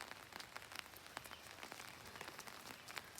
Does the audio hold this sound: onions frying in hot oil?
no